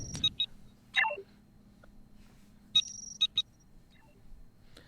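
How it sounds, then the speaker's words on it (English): An active starship console beeps in short, bright electronic tones, with a couple of quick pairs early and a cluster near the end, fairly faint over a quiet low hum. "you hear the beep, beep, beep of an active console somewhere"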